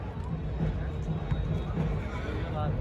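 A mare neighs amid the bustle of a filly show ring at the Pushkar fair, a whinny rising over a constant crowd murmur and indistinct voices.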